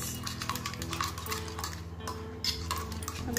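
A coffee powder mixture is whisked to a smooth cream in a bowl, a rapid, close, rhythmic clatter and scrape of utensil against the dish that continues steadily throughout.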